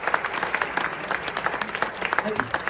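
A university audience at a Punjabi Culture Day event in Lahore breaks into dense, steady applause, many hands clapping at once, with a voice speaking over it.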